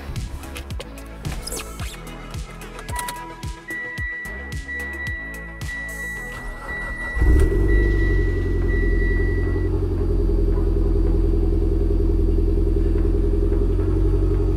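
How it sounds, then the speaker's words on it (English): A 2010 Mitsubishi Lancer Ralliart Sportback with an Evo X turbo engine swap starts up: door and interior clicks, a brief cranking, then the engine catches and settles into a loud, steady deep idle rumble. "Let's go ahead and get in and start it up."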